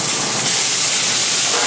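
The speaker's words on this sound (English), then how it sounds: "we put that chicken in there, just get that nice sizzle, get that skin nice and crisp" Chicken skin sizzling in a hot pan with olive oil over medium heat, a steady, loud broadband hiss of frying that fills the whole moment without a break.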